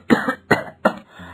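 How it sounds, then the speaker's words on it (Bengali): An elderly woman coughs in a cartoon, three harsh, close coughs in a quick, evenly spaced run, then a softer throaty rasp trailing off at the end. "কাশিটা খুব বেড়েছে এই ঠান্ডায়"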